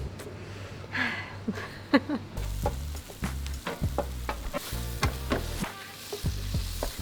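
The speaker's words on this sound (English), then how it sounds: "This is the sisig, one of my favorite, with the sizzling plate." Sisig sizzles steadily on a hot sizzling plate, a constant hiss broken by scattered clicks and scrapes of utensils, up close with no talking.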